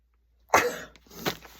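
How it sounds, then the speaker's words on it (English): A single close sneeze, a sharp burst followed by a softer exhale, in an otherwise quiet room. "I'm going to sneeze in my elbow"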